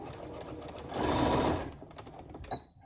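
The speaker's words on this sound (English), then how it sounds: "We'll hold it in place with some back stitching." A sewing machine back stitching the seam of a fabric face mask to hold elastic in place, a short burst of rapid mechanical whirring between quieter clicks and handling noises.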